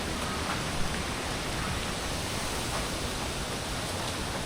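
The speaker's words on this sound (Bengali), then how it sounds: "বৈশাখ মাসের ঝড় বৃষ্টির একটি দৃশ্য আপনাদের সামনে তুলে ধরলাম" Heavy Kalbaishakhi storm rain pouring down in a village, a dense, continuous roar of rainfall filling the whole clip at an even loudness, with no voices.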